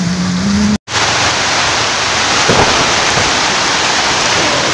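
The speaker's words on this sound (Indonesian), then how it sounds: "hujannya sangat lebat sekali ya" Heavy downpour pounding steadily at a lakeside fishing spot in Depok, a loud dense roar of rain that continues almost unbroken with a brief dropout near the start.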